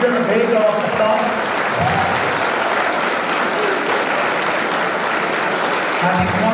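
A hall audience at a college pharmacy week celebration breaks into loud sustained applause, thick continuous clapping with a few voices briefly audible at the start and end.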